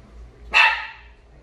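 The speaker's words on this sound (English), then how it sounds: "Why are we barking?" A single sharp dog bark rings out nearby, short and loud, against an otherwise quiet background.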